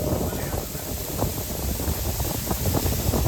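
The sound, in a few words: strong wind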